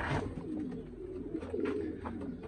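Pigeons cooing inside a loft of white-eyed birds, low soft coos repeating steadily throughout with a few fainter bird calls layered over them, close and continuous.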